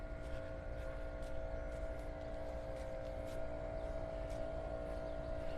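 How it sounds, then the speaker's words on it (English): A leaf blower runs steadily nearby on a residential street near Vanderbilt Beach in North Naples, Florida, a continuous droning engine whine with a few faint clicks over it and no talking. "Got their blower going."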